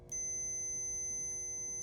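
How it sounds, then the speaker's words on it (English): Multimeter continuity beep while checking fuses on a classic Saab: a sudden, steady high-pitched electronic tone that sounds loud and close and holds without a break once it starts. "I got a continuity function like this"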